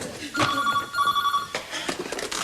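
A telephone rings with a bright electronic trill in two bursts, close and clear, as someone talks around it.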